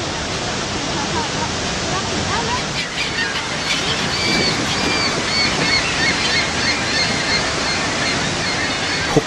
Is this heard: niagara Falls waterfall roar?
yes